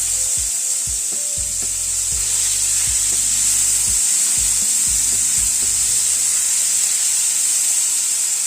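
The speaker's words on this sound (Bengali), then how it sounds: "গ্যাসের ফ্লেমটাকে কমিয়ে দিয়ে ধীরে ধীরে পেঁয়াজটাকে কুক করব।" Finely chopped large onion frying with potatoes in a pan over a lowered gas flame, a loud, constant close sizzle with a few knocks and scrapes of stirring early on and no talking.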